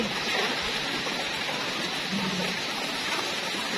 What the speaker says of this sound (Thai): บรรยากาศวันนี้นะคะฝนตกหนักมากๆเลย